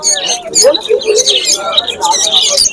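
Fischer's lovebirds, one albino, in a small cage at a busy pet market, giving loud, close, rapid high-pitched chirps and squeaks in overlapping bursts, with a voice talking alongside.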